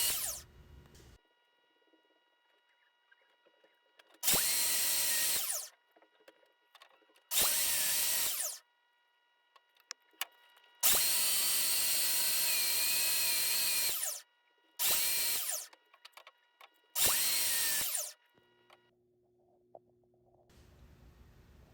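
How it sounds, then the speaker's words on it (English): Power sander working uneven wooden pallet pieces in several loud bursts of a few seconds each, separated by quiet pauses, close to the microphone and with no talking. "Here I'm just sanding down a few pieces that were a little bit too uneven"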